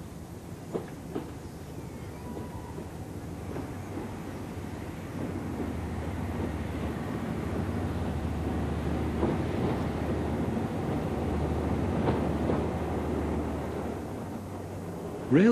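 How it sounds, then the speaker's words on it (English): HST diesel train passing Bedlington on a diverted King's Cross service in the 1960s, a steady low engine rumble and rolling wheel noise that builds and lingers for the full stretch, under a faint narrating voice. "This HST passes Bedlington on a diverted King's Cross train."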